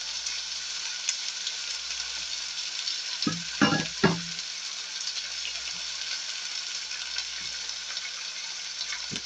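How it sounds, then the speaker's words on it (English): Beef pot roast sears in a hot pan with a steady, close sizzle, broken by a few louder crackles and pops near the middle. "Hear that sizzle? That's because it's good and hot."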